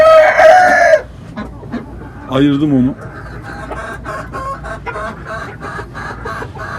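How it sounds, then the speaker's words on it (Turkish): Brown Leghorn chickens in a farm coop cluck and squawk in loud bursts near the microphone, one sharp cackle at the start and another mid-clip, with someone speaking briefly between them. "Brown ligorinler burada."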